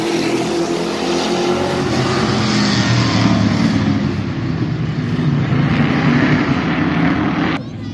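Street stock race cars roar through an eight-lap heat race at Midvale Speedway, a loud, continuous mass of engine noise that swells and drops slightly, with a faint announcer voice blended into the roar.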